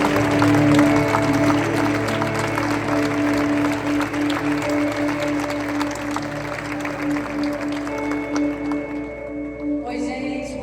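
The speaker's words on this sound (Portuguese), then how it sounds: "Aplauda o Senhor." A church congregation applauds, a dense, continuous wash of clapping mixed with voices and a sustained musical tone underneath, fading near the end.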